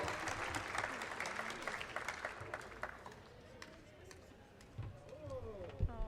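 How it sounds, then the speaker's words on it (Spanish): A gathered audience at a human rights lecture claps for a birthday, a fairly quiet, uneven patter of hands with a few sharper claps and talk running beneath it. "Entonces vamos a darle un fuerte voto de aplausos para celebrarlo con ella."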